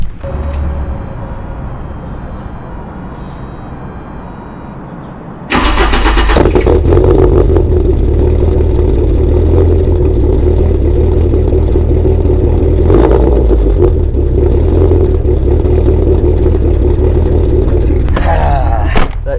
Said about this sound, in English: I'm gonna give you guys a quick cold start